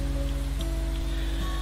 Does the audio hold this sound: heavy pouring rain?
yes